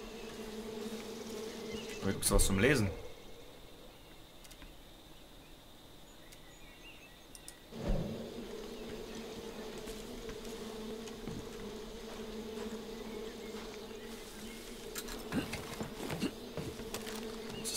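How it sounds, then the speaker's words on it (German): Bees buzz around a beehive in the video game Far Cry New Dawn, a steady faint drone running under game effects and someone speaking German. "Bienenstock. Oh, die Bienen."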